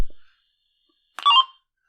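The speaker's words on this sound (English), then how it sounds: "if you heard this one, it had a Roger beep" A short two-way radio roger beep, a brief electronic chirp after a click at the start, heard clearly alone against silence.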